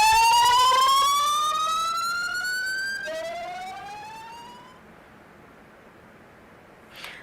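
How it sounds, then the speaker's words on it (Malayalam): A disaster management authority warning siren sounds in Thiruvananthapuram, a loud wailing tone rising in pitch, cutting off, then rising again and fading out, with a faint click at the end. "തിരുവനന്തപുരത്ത് ദുരന്ത നിവാരണ അതോറിറ്റി സൈറൻ മുഴക്കി."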